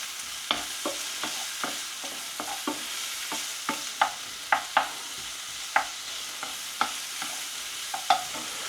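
Bacon lardons fry in a pan for a cheese and bacon potato gratin, giving a steady, moderately close sizzle broken by frequent sharp pops and spits at an irregular pace.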